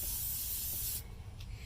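Steady close hiss of Krylon Crystal Clear acrylic coating sprayed from a can onto an acrylic pour painting, lasting about a second before cutting off, then a faint short puff.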